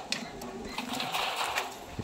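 A restless pigeon flutters and shuffles inside a cage, giving soft wing rustles and scrabbling bursts with faint bird calls, close by and fairly steady throughout.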